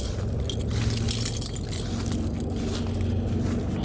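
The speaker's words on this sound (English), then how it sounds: "big old key ring" A big old key ring jangles steadily and close by, its bright metallic rattling continuing for several seconds over a low rumbling background hum.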